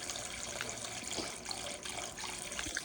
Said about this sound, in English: Look, there's water down in here.